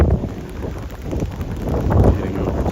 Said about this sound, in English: It's pretty gusty. Some fairly heavy wind coming off the lake.